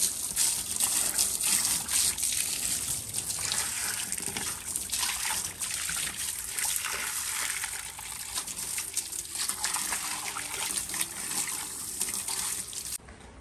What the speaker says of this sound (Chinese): 我用刷子把它给刷洗一下